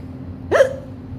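A single sharp hiccup from a woman, brief and close, set against a faint constant low hum.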